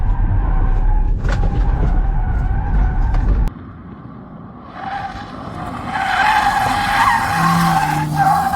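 A Hyundai i20 sliding through a corner, with loud tire skidding and engine noise over the first few seconds, then a quieter stretch as the skid eases, followed by rising tire squeal and engine sound.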